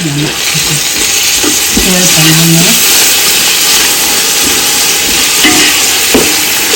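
Green chillies frying and being stirred in a pot for beef biryani, with steady sizzling under a few scraping, clinking stirs of a spoon against the vessel, loud and close.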